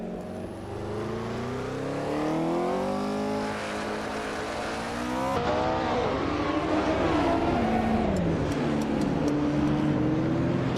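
A vintage ultralight Porsche 909 Bergspider race car in a racing game, its engine loud and close as it revs up through the gears, drops, then climbs again in rising sweeps, with a brief tire squeal.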